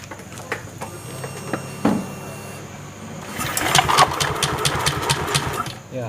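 A Honda Vario 125 scooter engine, fitted with a CVT, fires up after a brief weak start attempt and settles into a steady, fairly close idle with a rapid even pulse.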